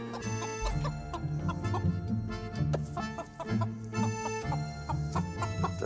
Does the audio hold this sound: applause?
no